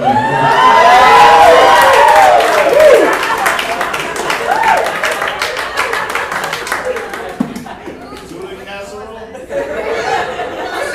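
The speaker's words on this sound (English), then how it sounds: "I'll take the applause." A comedy club audience at a stand-up show breaks into applause and cheering, a loud, dense crowd wash that sits under a talking voice at first, then thins into scattered claps and chatter.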